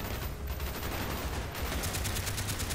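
Gunfire in the video game Call of Duty: Black Ops, a continuous rattle of rapid automatic shots with rhythmic bursts growing more distinct toward the end, loud and close, with no speech.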